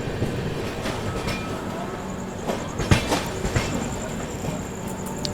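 Tamil Nadu Superfast Express running through Rani Kamalapati railway station without stopping, a continuous rumble of wheels and carriages with clattering rail joints, occasional sharp squeals and faint voices in the background.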